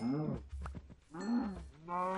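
Cows mooing in Minecraft, two drawn-out, low, nasal moos with a short pause between them, loud and close with no talk over them.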